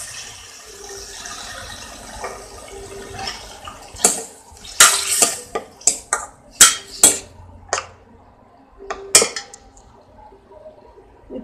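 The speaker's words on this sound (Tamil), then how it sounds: "ஸ்வீட் கார்ன் அரைச்சி வச்ச தண்ணி ஊற்றிடலாம்." Ground sweet corn liquid poured into a pan while making restaurant-style sweet corn veg soup, heard as a series of sharp splashy bursts and clatters over a quiet kitchen background, close and moderately loud.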